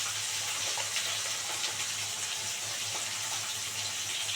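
Three tomatoes go into a hot frying pan while cooking a mourala fish dish, giving a steady, close, even sizzling hiss throughout with no talking.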